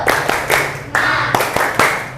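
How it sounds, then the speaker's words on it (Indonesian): A class in an Indonesian school does a rhythmic clap chant called tepuk semangat. Students clap in short groups of sharp, near claps while their voices chant along. "Tepuk semangat."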